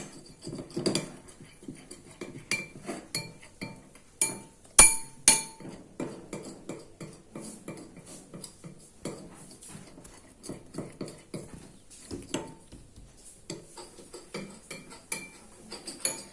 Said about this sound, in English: After microwaving it, stir the chocolate nicely.